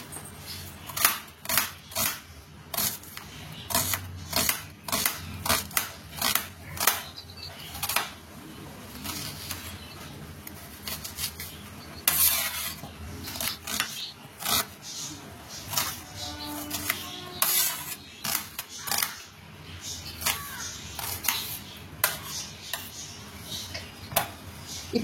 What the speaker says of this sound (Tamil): பெரிய சைஸ்ல ஒரு 4 வெங்காயம் நல்ல மெலிசாவே கட் பண்ணி எடுத்துக்கணுமா இருக்குது.